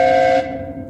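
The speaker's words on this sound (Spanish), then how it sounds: "El silbato del tren lejano," Steam train whistle sounding as a steady, sustained hissing tone that cuts off partway, leaving a fading reverberant tail.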